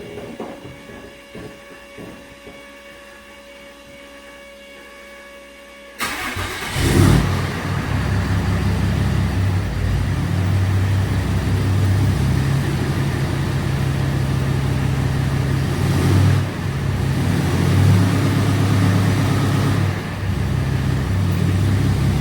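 A 2008 Ram 2500HD truck with a 68RFE transmission fault cranks and starts, then settles into a loud, steady low engine rumble with brief swells as it is shifted into drive.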